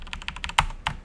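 Quick run of computer keyboard typing, about eight crisp keystrokes in a second with two louder key hits standing out, close and alone.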